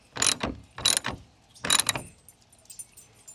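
Ratcheting as radiator bolts on a 2010-2014 Subaru Outback 3.6 are snugged into a plastic frame: three short, close bursts of clicking about half a second apart, then quiet.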